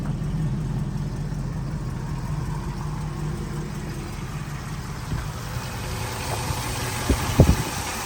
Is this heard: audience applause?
no